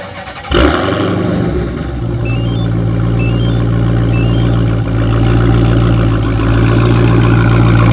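A Dodge Hellcat's engine fires on remote start with a sharp burst, then settles into a loud, steady, deep idle rumble that holds close and constant for several seconds.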